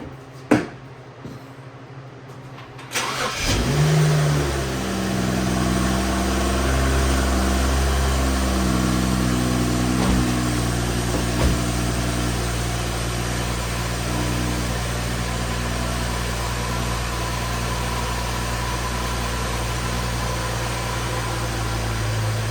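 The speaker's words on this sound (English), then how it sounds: "The idle sounds so much better." A BMW E92 335i engine, just fitted with new VANOS solenoids, starts after a few seconds of quiet and then idles steadily and evenly, loud and close, for the rest of the clip.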